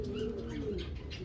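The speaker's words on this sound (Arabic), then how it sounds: "أعز حمامة عندي يا خوتي هي هادي" A racing homing pigeon coos close by, a low throaty rolling call that lasts the whole moment over faint background noise, with no voices.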